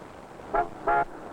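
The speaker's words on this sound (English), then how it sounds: "Honking the horn is not enough." Two short honks of a car horn, each about a quarter second, separated by a brief gap and standing clearly above a quiet background.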